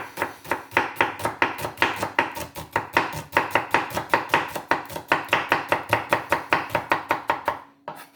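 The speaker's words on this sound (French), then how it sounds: "Il faut simplement maintenant émincer l'oignon" A knife finely slicing an onion on a board, steady rapid chopping strokes in an even rhythm, close and clear, with no talk.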